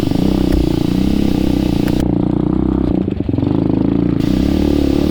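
An X-pro Storm 150 DLX motorcycle climbs a mountain hill on a desert-to-mountain ride. Its engine drones steadily and loudly up close, mixed with wind rush and a brief dip in the middle.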